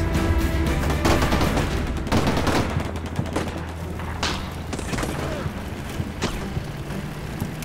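Heavy combat gunfire in the wargame Combat Mission Shock Force 2, with Syrian forces firing on American Marines: dense bursts of rifle and machine-gun fire with booming thuds, loud and continuous, a voice speaking over it.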